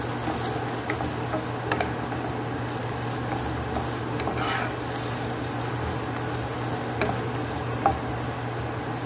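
Ginger frying in a pan until golden brown, a steady soft sizzle with faint crackles and small pops throughout, alone without talk, in a home kitchen while cooking mung bean stew.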